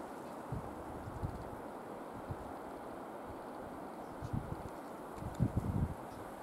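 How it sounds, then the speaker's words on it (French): Steady wind blows outdoors with soft rustling and a few low buffeting gusts against the microphone. "On entend le vent."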